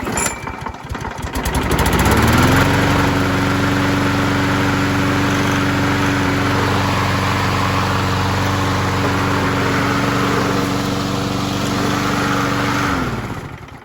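A 2007 Craftsman self-propelled push lawnmower with a primer-style engine starts up and runs at a steady, loud drone for about eleven seconds before cutting off, with no talking.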